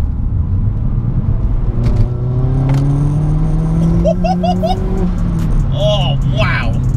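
A Vauxhall Astra VXR engine, stage 3.5 tuned to 297 bhp, rumbles loudly and its pitch climbs as it revs, over a steady low roar, with a voice briefly heard late on.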